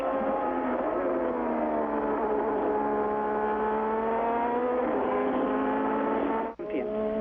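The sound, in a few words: 1987 Formula 1 turbocharged race car engine at Belgian Grand Prix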